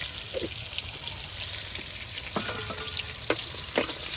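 Moringa drumstick pods frying with turmeric in a pan, a constant sizzle beneath a few scattered stirring scrapes and clinks, close and moderate in level.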